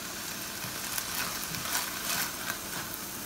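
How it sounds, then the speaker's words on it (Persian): Mushrooms sizzling and frying with meat in a pan over high heat, a steady broadband hiss with occasional louder crackles and stirring, close and alone. "قارچو به گوشتمون اضافه میکنیم."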